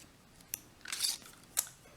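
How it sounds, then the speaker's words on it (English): A small butterfly-shaped paper punch cutting a butterfly out of cardstock gives two sharp clicks around a brief crisp crunching snap, close and fairly quiet. "use the small butterfly punch and punch out"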